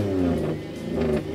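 An antique car's engine runs at an outdoor classic car exhibition, a steady low idle with a brief rev swelling and settling, fairly close and alone without talk.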